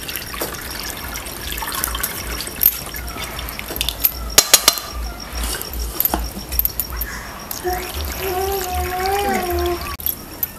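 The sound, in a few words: cold water poured over wheat noodles in a strainer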